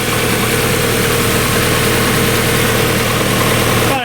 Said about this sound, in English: It's one of the smoothest running engines I've ever come across.